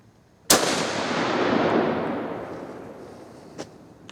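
A single loud rifle shot from a Mauser K98 fired outdoors, a sharp crack followed by a long rolling echo that fades over a few seconds, with a faint distant pop near the end.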